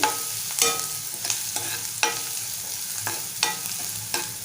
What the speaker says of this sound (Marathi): कांदा आपण थोडासा नरम होईपर्यंत परतून घेऊया